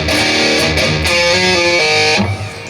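A heavily distorted electric guitar plays a quick lick with hammer-ons and pull-offs from a song, loud and sustained, rapid note changes ringing together, no speech.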